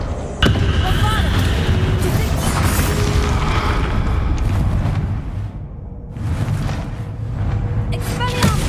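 A Bombarda blasting spell explodes during the final battle against Ranrock in Hogwarts Legacy, a loud, dense roar of booming impacts and rumbling effects that runs nearly unbroken, with a brief dip before it swells again.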